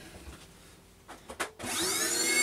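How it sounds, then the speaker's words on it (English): A vacuum cleaner hooked up for thermoforming airbrush stencils stays quiet while a few handling knocks and clatters sound, then switches on partway through and spins up into a loud, steady roar with a rising whine that holds to the end. "I've attached and started the vacuum cleaner"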